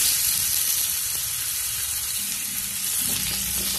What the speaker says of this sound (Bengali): কড়াই যে তেল ছিল সে তেলের মধ্যে আমি এখন আলুগুলো দিয়ে দিলাম।